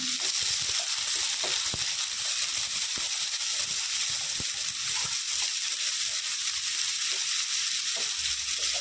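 Chopped onion softening in a hot pan for methi bhaji, a steady close sizzle with occasional soft spatula stirs and taps.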